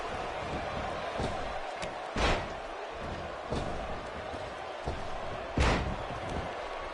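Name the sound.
wrestler landing a missile drop kick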